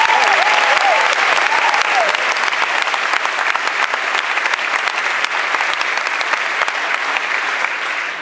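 Sustained audience applause at a Columbia University event honoring Vice President Al Gore, dense and steady clapping from a large crowd lasting throughout, slowly tapering slightly toward the end.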